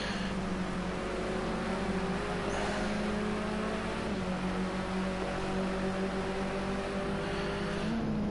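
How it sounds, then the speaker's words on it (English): A BMW 320 race car's engine, heard on board during a lap of the Silverstone International Circuit, drones steadily and loud, with its pitch rising and falling through gear changes and throttle shifts. "As we're going to ride on board with Keegs for a lap up the Silverstone International Circuit in the BMW 320"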